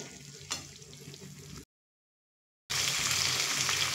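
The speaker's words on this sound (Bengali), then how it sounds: "দিয়ে আবারও 1 থেকে 2 মিনিট আলতোভাবে কষিয়ে নেব" Chicken with jackfruit pieces being gently stir-fried in a pan: a soft, steady sizzle, broken by a second of silence before it returns louder and fuller.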